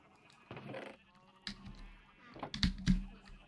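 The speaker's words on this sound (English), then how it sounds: "I accidentally bumped one of the sheep and they went over the fence" Sheep in a Minecraft-style video game bleat several times in short, wavering calls, the last two louder and close together, with a quiet voice murmuring in the background.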